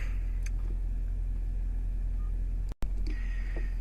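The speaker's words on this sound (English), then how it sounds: "As you can hear, it's a very quiet truck." A 2015 GMC Sierra 3500 Denali HD single-rear-wheel pickup runs quietly in a field, a soft, steady low engine rumble with a brief dropout near the end.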